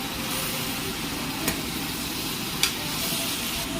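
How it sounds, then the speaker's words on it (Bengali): Turmeric and ground spices fry for Kerala sambar curry, giving a steady, fairly loud sizzle with a couple of faint scrapes from stirring and no talk. "আমি একটু উল্টা পাল্টা করে নাড়াচাড়া করে দিই।"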